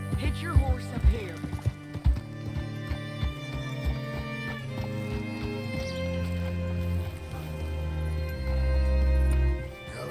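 Horse hooves clop in Red Dead Redemption 2, with a few irregular steps slowing to a halt as someone talks over them, then faint shuffling and creaks.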